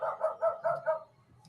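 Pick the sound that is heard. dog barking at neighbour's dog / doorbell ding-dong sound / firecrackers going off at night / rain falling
dog barking at neighbour's dog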